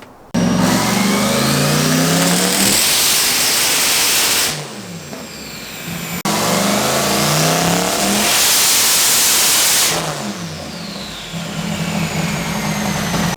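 A time attack car fitted with an 88mm turbo revs hard in two long loud pulls, each dropping back toward idle, running rich and stumbling near the top before settling.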